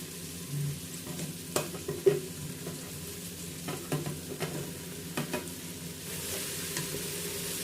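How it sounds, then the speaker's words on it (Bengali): Mixed vegetables and soya chunks frying in a pan for soya veg pulao, a quiet sizzle under irregular clacks and scrapes of a spoon stirring. "সবজিগুলো এবার ভালো করে একবার নাড়িয়ে নিচ্ছে দিচ্ছি অল্প লবণ দিচ্ছে সয়াগুলো"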